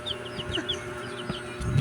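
Pet chicks cluck and peep softly in short, high chirps repeated several times in quick succession, faint against a quiet background.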